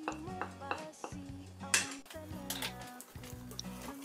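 Tableware clinks and scrapes as a marinade of light brown sugar, black pepper and finely chopped garlic is mixed in a bowl, with a steady run of clattering utensil strokes against a bed of background music.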